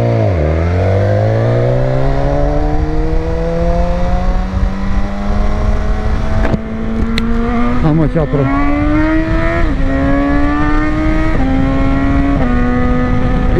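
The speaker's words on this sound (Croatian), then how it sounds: "na motoru je tvornički auspuh, doduše malo prepravljen, ali tvornički" A 2018 BMW S1000XR motorcycle with a slightly modified factory exhaust revs loudly and close by, its engine pitch climbing in steady pulls with brief shift dips, and someone briefly speaks over it.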